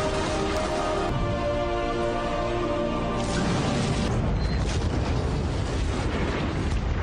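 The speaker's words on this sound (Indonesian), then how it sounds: "Bom pun diledakkan." A bomb detonating in the action film London Has Fallen: a loud, sustained roar of blast and rumble that stays dense and heavy throughout, shifting into crumbling, crackling debris noise with no pause.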